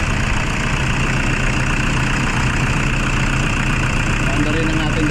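A Toyota Fortuner with a check engine warning runs at idle nearby, giving a loud, steady low engine rumble that drones on without a break.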